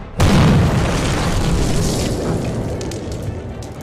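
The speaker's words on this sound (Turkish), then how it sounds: "ekip ne olduğunu anlamadan büyük bir patlama yaşandı" In a video game, a sudden loud boom bursts in after a brief silence, followed by a long rumbling, crackling roar that slowly fades.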